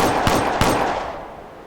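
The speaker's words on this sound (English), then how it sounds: "Aim at the target and fire a few rounds with your pistol" Two sharp pistol shots from a firing-range tutorial in the 2007 Shadowrun video game, spaced about a third of a second apart, loud and close, followed by a fading echo.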